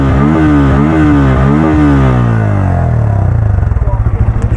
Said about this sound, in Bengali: তো শুরুতে আপনাদেরকে এক্সস্ট নটটা শোনাই।